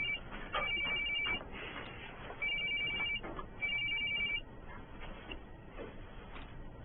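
A telephone rings in repeated electronic bursts with short gaps between them, heard over faint background noise.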